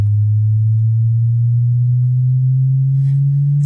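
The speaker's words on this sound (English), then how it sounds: "So you can hear it rising and rising and rising." A pure sine-wave synth tone in Ableton Live glides slowly and smoothly upward in pitch, loud and sustained, with no other sounds over it.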